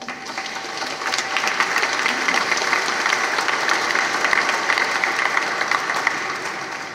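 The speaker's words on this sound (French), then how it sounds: "On vous applaudit." A cathedral congregation at a Sunday Mass applauds at length, the dense clapping swelling after a second and holding steady in the reverberant space until it starts to thin at the end.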